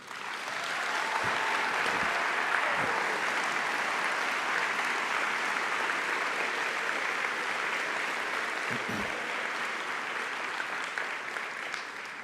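Sustained applause fills a hall at the Bishop's University convocation ceremony for the Class of 2022, a broad steady wash of clapping that holds for over twelve seconds, with a few louder claps near the start and near the end.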